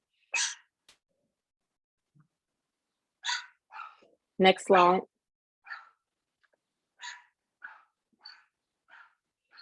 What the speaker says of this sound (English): my dog is going off. Someone's at my door.